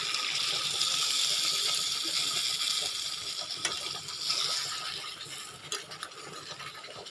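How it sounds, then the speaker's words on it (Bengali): Warm water is poured into a pan of chicken kosha, a steady close hiss and splash of liquid hitting hot food that carries on for several seconds, with faint stirring clatter toward the end. "এটা গরম জল দিয়ে দিচ্ছি এখানে।"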